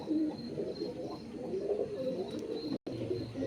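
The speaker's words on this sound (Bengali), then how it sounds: "এই হচ্ছে পায়রা, এটা হচ্ছে নর।" A male Kalaka pigeon coos softly close by, low rolling murmurs repeating steadily, with a brief break near the end.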